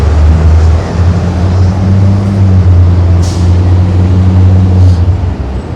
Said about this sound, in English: loud trucks.